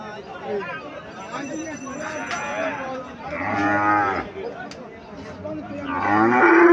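Cows moo repeatedly at a busy cattle market, long low calls rising above a steady babble of people bargaining and talking nearby, with the final moo growing louder.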